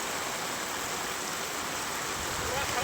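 Floodwater rushes through a submerged house during heavy flooding in Nanded, a steady, loud, broadband roar of moving water that holds constant throughout.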